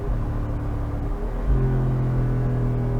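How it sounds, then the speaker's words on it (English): Deep rumbling V8 of a 2024 Jeep Wrangler 392 easing off as it decelerates after paddle-shift downshifts, a steady low drone with a slight pitch drop midway, close and continuous. "no pops or gurgles with the downshifts with the paddle shifters, but it does sound nice as it decelerates"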